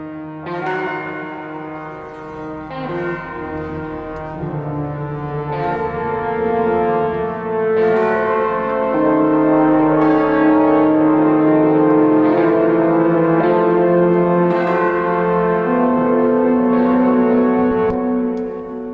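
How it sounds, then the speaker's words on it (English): Bells ring through a dense, heavily limited music mix with other instruments, steady and loud throughout, with repeated bright strikes that sound squashed and softened on their attacks. "that's slamming pretty hard into the limiter, so you're probably losing a bit of the attack on those bells"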